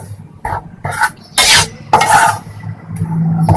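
Masala paste being stirred with oil in a bowl for lachha paratha: a series of wet scraping and stirring strokes, close and fairly loud, with no talk.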